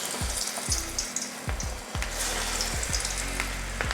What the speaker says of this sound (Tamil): இப்போ பொரிச்சு எடுத்துடலாம்